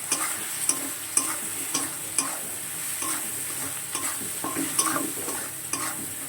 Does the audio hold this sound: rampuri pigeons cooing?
no